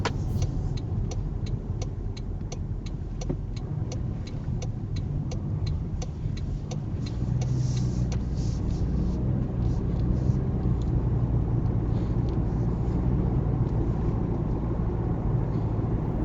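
A car drives along a narrow road on a driving exam route, with a steady engine and road rumble heard from inside the cabin throughout.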